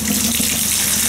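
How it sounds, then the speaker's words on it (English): Water runs from a shower faucet in an old budget motel bathroom, a steady, loud hiss of spray with a low resonant hum beneath, unbroken for the whole short stretch and with no talking. "Let's check the water pressure here while I'm in here."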